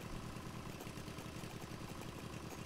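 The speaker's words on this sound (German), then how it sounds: "Der Motor." A car engine runs steadily in a smuggling simulator video game, giving a continuous low, rumbling hum with an even pulsing throb and no talking.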